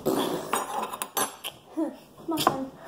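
A utensil clinks and scrapes against a dish while hot sauce is mixed, bursts of short close clatter coming in uneven rhythm between moments of quiet.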